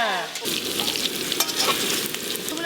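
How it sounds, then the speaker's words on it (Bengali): Two metal spatulas stir and scrape food sizzling in a hot frying pan, a steady close-up crackle of oil with irregular clinks and scrapes running throughout. "দুটো খুন্তি আজকে জোর কদমে চলছে"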